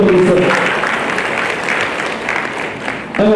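Audience applause at an atomic energy workshop, a dense burst of clapping from a seated crowd, fairly loud and near, with speech heard briefly at the start and end.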